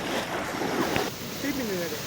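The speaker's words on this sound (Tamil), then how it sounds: "இதில் அதிகமான அலை இல்லை ஆனாலும் அலை அடிச்சுக்கிட்டே இருக்குது" Gentle waves keep washing onto Pudhupattinam beach near Thanjavur and Muthupet in a continuous soft surf, with wind buffeting the microphone.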